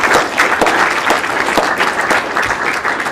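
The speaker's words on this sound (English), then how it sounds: "So, round of applause for him as well." Close, loud applause from a conference audience, crisp individual claps forming a dense, continuous patter with a few sharper standout hits.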